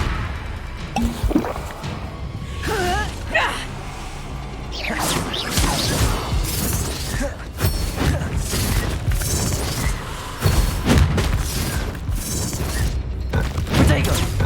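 Confringo fire spells burst in the Hogwarts Legacy game amid a chaotic duel, with repeated booms, whooshes and crashing impacts layered densely over the whole stretch, while voices shout spell names throughout.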